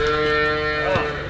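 A dairy cow on a farm gives one loud, close, sustained moo that fills the moment without any talk over it.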